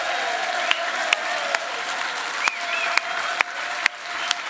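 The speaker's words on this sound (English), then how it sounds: "I think everyone should give him a round of applause" Live audience applauding Sean Yates after an on-stage conversation with Bradley Wiggins, a sustained crowd clapping with a few louder individual claps standing out, indoors and fairly close.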